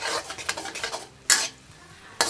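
Korat-style noodles are stir-fried in a pan, with a quick series of scraping spatula strokes and light sizzling, then two louder scoops or clanks against the metal, all close and brief with no talking.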